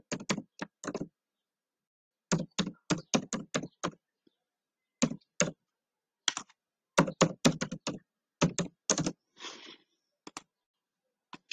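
Someone types on a computer keyboard to log in, quick bursts of crisp clicking keystrokes separated by short pauses, close and clear with no talking.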